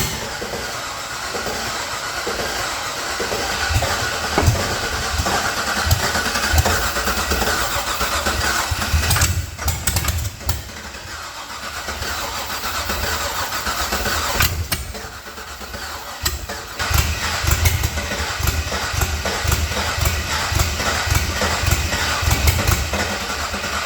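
A Datsun car, just back together after a rebuild, with its ECU newly plugged in: the engine starts and keeps running. A loud, rough mechanical roar holds steady with brief dips and surges nearby, and no voices are heard.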